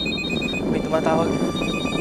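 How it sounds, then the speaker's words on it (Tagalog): A telephone rings with an incoming call, its repeated electronic trill heard under a voice. "May tumatawag."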